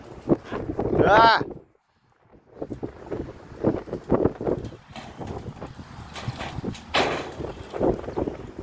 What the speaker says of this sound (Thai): ลมแรงมา